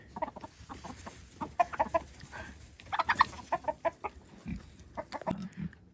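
Several chickens cluck close by on a farm in short, scattered calls that overlap and pick up in busy bursts, with no talking.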